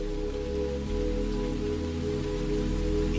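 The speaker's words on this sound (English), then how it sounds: "Now imagine raindrops falling gently around you." Steady rain falls on a surface during a guided meditation, soft and continuous with gentle drop patter, blended under a sustained low tonal drone. No speech is heard.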